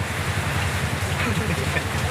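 Dense, steady typhoon rain roars continuously in Zapote, Bacoor, a heavy hiss of drops pouring down with a low rumble underneath.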